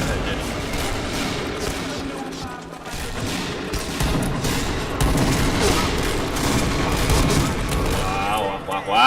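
Dense, continuous gunfire from the online shooter game PointBlank, with rapid bursts and booms layered thickly over game audio throughout, loud and unbroken.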